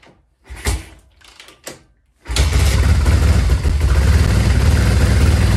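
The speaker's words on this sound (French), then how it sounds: "premier démarrage de la moto. Avec la ligne d'échappement modifiée." A few clicks and clunks, then a motorcycle engine with a modified exhaust line cranks and fires into a loud, rough, steady rumble that keeps running close by.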